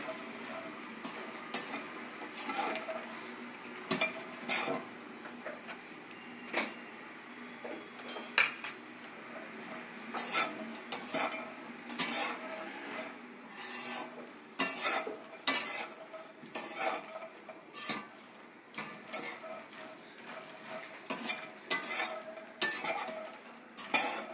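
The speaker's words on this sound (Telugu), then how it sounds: "ఇది కొంచెం మీడియం ఫ్లేమ్లో పెట్టుకొని బాగా ఫ్రై చేసుకోవాలా." Food stirred and fried in a pan over a medium flame, a soft continuous sizzle broken by frequent metallic clinks and scrapes of a utensil against the pan, fairly quiet and close.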